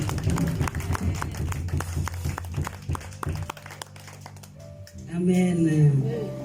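Congregation at a French-language evangelical church service claps loudly and rhythmically for Jesus, dense hand percussion under speech and music, fading before sung voices enter near the end.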